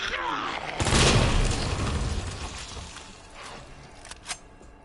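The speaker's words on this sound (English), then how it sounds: "that's a waste of perfectly good hand grenade" A hand grenade goes off in Resident Evil 2, a loud broadband boom swelling then slowly decaying, followed by a few small sharp pops near the end.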